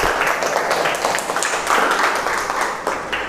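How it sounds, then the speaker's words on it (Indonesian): Classroom applause for student groups after a presentation, a steady, fairly close patter of many hands clapping that rises and falls slightly throughout. "Tepuk tangan untuk kelompok 1 dan kelompok 2."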